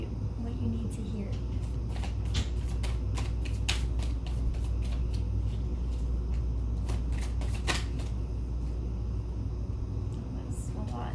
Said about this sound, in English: I'm just going to shuffle and see what needs to be said to you